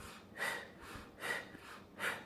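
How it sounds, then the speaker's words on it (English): A plus-size woman breathes in through her nose while running, making three rhythmic, close, airy inhales spaced about a second apart, with no talking. "I will sometimes do this thing where I breathe in my nose"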